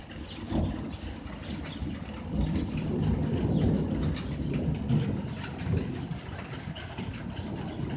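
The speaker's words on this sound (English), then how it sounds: "Oh, the birds are still out there." Pigeons or doves cooing and other birds calling outdoors during rain in Detroit, a steady wash of rainfall with low rumble underneath and the bird calls scattered through it.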